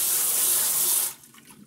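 Tap water runs steadily over a Gala apple being washed under a faucet, a loud continuous splashing hiss that cuts off abruptly after about a second, leaving quiet handling noises.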